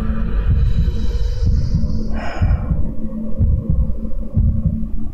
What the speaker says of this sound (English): His heartbeat or mine.